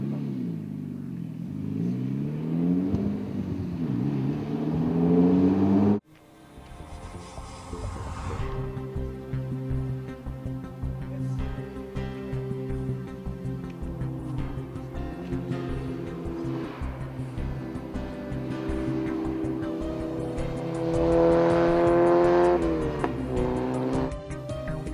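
A Mazda car lapping Mondello Circuit, its engine loud and close, revving up and easing off through the gears in one continuous drive with no talking.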